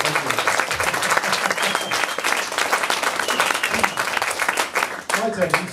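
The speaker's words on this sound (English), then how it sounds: "Keep clapping, please." An audience applauds steadily, a dense wash of many hands clapping throughout, with a voice briefly heard near the end.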